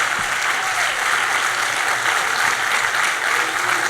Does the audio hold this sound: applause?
yes